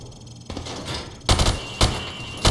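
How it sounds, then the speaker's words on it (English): Rifle fire from the hip at a shooting range in Call of Duty: Modern Warfare Remastered, with three loud, sharp shots spaced about half a second apart and a reverberant tail after each, following an earlier burst of muffled noise. "Now, shoot at the targets while firing from the hip."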